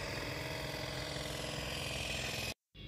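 Passenger boats and tourist houseboats motoring on a Kerala backwater give a steady, loud engine drone with a rhythmic low throb, cutting out abruptly near the end before returning.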